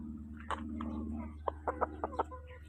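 Chickens on a farm cluck in a string of short, clipped notes, several in quick succession toward the end, fairly close over a steady low background hum.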